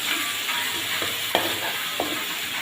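Garlic frying in a pan, browning ahead of being used in a chicken biryani, sizzling steadily with a few sharp stirring scrapes, close and fairly loud, with no voices.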